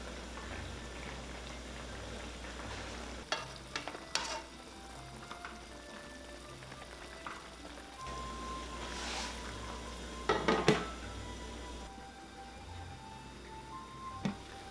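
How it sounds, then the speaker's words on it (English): Char siu pork ribs simmer in sauce in a lidded pot over medium-low heat, a low steady bubbling and sizzle broken by a few brief clinks and knocks. "Cover the lid and bring it to a simmer."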